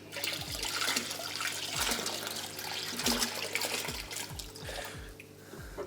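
Water poured from a bucket into a large 1000-litre aquarium while releasing angelfish, a steady close rushing splash running throughout with repeated low gurgling glugs.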